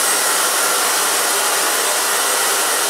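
A handheld blow dryer roars steadily at close range while drying hair during a fohawk styling session, a loud, constant airy whoosh with no pauses and no talk over it.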